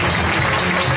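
Audience applause fills a hotel ballroom at an awards ceremony, a dense, even wash of clapping heard up close for a brief moment.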